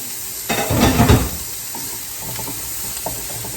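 A vegan omelette fries gently in a pan with only a little oil, a soft sizzling hiss that swells briefly with stirring noise and then settles to a quiet, steady crackle; no voices.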